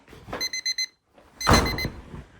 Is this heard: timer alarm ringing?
yes